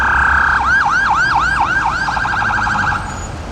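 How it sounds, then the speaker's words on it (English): A police car siren wails close by in a loud, repeating sweep that switches partway through to a faster yelp, heard on a snowy city street. "As a police car"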